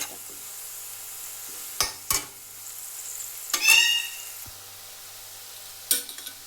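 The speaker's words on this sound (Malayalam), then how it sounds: "മഞ്ഞൾപ്പൊടി ചേർക്കാം മുളക് പൊടി ഇതിൻ്റെ ആവശ്യത്തിന് ഇതൊക്കെ ചേർത്ത് കൊടുക്കാം നന്നായിട്ട് എല്ലാം കൂടെ ഒന്ന് മിക്സ് ചെയ്ത്" A spoon stirs turmeric and chili powder through a frying mixture in a pan, giving a handful of sharp, isolated scrapes and clinks over a faint, steady sizzle.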